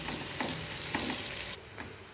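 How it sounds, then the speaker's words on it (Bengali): Chopped onions frying in oil with a steady close sizzle and a few soft stirring scrapes, the sizzle dropping a little near the end. "পেঁয়াজটাকে একটু ভেজে নেব, ব্রাউন কালার করে নিতে হবে।"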